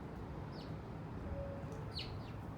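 Outdoor birdsong from mockingbirds out back, a few short, faint chirps and tweets spread over a steady low background hum.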